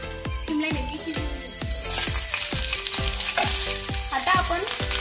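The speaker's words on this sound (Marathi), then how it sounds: "आणि यावर झाकण ठेवून लो फ्लेमवर आपण दोन ते तीन मिनिट सिमला मिरची शिजवू" Capsicum cooking in a pan over a low flame, a constant sizzle broken by a rhythmic series of sharp metallic taps and clinks, close and fairly loud.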